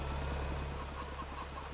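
Chickens clucking in a farm-building video game, a soft rapid cluster of repeated clucks over a low steady hum, fairly quiet and with no talk.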